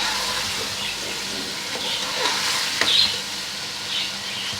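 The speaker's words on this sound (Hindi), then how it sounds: "ये हरी मिर्च, इनको भूनेंगे" Green chilies fry in a pan with tomatoes while chicken biryani is being prepared, giving a steady close-up sizzle with a few brief spatters and stirring scrapes, and no talking.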